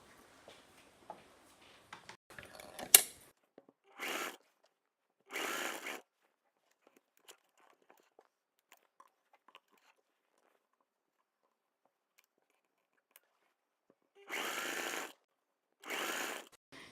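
Sewing machine running in short bursts while stitching a rounded boat neckline on fabric, with four distinct runs of about half a second each, separated by quiet pauses and light handling clicks.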